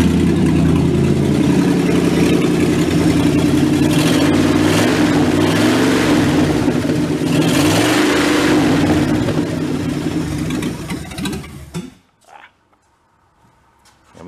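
Engine of a neglected 1966 Ford Galaxie revving loudly and steadily for about twelve seconds, a rough sustained drone that cuts off abruptly, leaving near silence with a couple of faint knocks.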